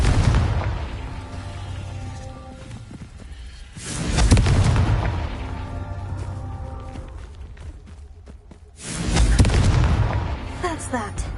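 Confringo blasting-spell explosions in Hogwarts Legacy: two heavy, rumbling booms a few seconds apart, each swelling and fading over a couple of seconds, over a dense game soundscape with speech mixed in.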